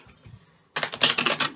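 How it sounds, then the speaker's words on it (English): A quick burst of rapid papery riffling and slapping, close and fairly loud, after a near-silent pause. "give this another shuffle."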